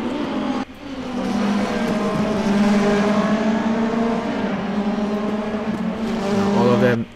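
Race cars in a sim racing video game scream along nearly continuously at high revs, a loud steady engine drone with a brief dip near the start, as cars battle for position.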